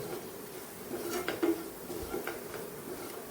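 Homemade garam masala is stirred and sautéed in a pan, with a spoon scraping and clinking against the metal several times over a quiet background, no voices present.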